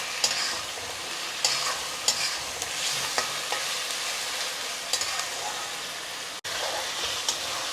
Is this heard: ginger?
yes